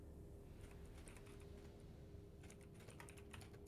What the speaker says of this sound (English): That's because I'm typing.